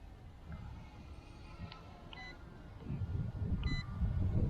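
A Holystone HS710 4K GPS drone gives short electronic beeps while outdoors before flight, faint tonal blips over a low wind-like rumble that grows louder toward the end.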